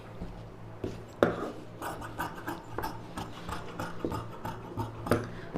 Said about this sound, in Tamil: அப்படியே இந்த நெக் ஷேப் கட் பண்ணிவிடுங்க